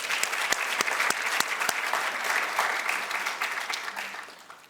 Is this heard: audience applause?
yes